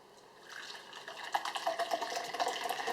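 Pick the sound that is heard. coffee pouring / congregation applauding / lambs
coffee pouring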